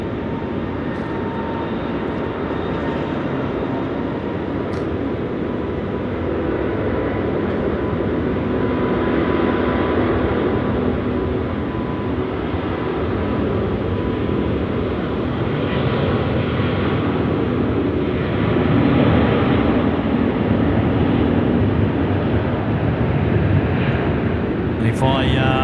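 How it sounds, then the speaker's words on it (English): Airbus A380 taking off from runway 16 right at Sydney Airport at night, a broad, steady jet roar heard from a distance that swells gently toward the end of the clip, with faint talk underneath. "A380 rolling. 16 right."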